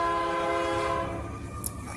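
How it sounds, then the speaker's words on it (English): A train passing very close to a backyard, loud and near, with a sustained horn-like tonal blare over rumbling rail noise that eases slightly toward the end. "there's literally a train coming and it is so loud because it's in my backyard"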